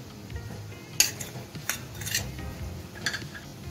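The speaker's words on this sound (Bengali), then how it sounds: "সব কিছু এখন ভালো করে মিশিয়ে নিচ্ছি।" A spoon scrapes and clinks against a bowl while chicken masala spices (kasuri methi, Kashmiri chilli powder, cumin and coriander powder) are stirred into a paste, with a few sharp taps among soft stirring, fairly quiet.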